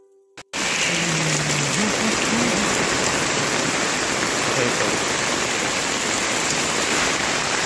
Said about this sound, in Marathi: पाऊस आलो आणि हे पहिलं पाऊस आजच्या दिवसात पडलेलो मोठं